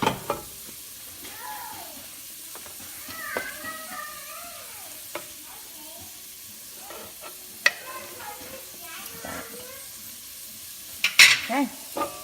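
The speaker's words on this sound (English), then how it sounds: "Saute until it's softened." Onions and red bell pepper sauté in a pan for Cajun fried corn, with a soft, steady sizzle, occasional stirring scrapes and clinks, and a faint voice now and then.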